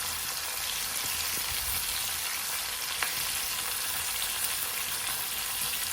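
Masala fish coated in chili and turmeric powder fries in hot oil, a steady loud hiss and crackle that stays constant with no pause throughout.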